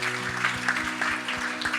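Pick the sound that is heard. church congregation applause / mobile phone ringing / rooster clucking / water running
church congregation applause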